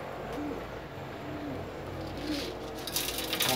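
Pigeons cooing in a loft or yard with gift pigeons being flown, soft repeated low coos over steady background noise, no talk.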